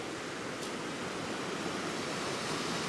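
A river in the Cairngorms mountains gives a constant, full rushing wash of flowing water, steady and fairly loud throughout with no voices.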